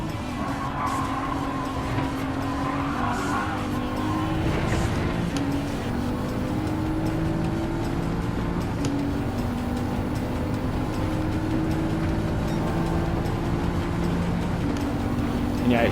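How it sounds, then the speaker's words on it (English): Race car engine in Gran Turismo 7 droning steadily at high revs down the straights, its tone rising and shifting with gear changes throughout, loud and continuous. "it's just ridiculous how quick that car is"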